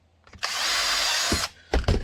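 A power drill boring rivet holes through holster material, one loud whirring burst of about a second close up, followed by short clunks of handling.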